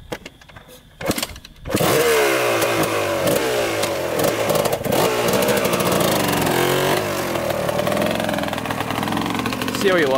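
A Honda CR250 two-stroke dirt bike ridden hard, its engine blaring loud and close with repeated rising and falling revs through gear changes after a brief quieter start.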